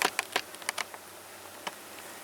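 Quiet, close buzzing from a jar of roughly 300 honeybees, broken by scattered sharp ticks and taps in an uneven rhythm that fade after the first second.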